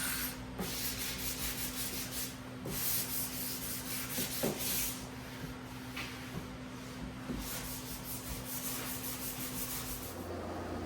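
A cabinet is sanded by hand with steady, continuous rubbing strokes, faint and evenly paced, under a constant background hum, with no voices.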